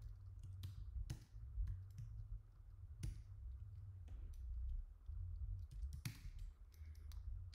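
Typing on a computer keyboard during a command-line session: irregular key clicks with a few sharper taps, fairly close but quiet, over a steady low background hum, with no talking.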